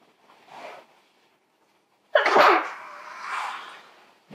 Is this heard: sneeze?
yes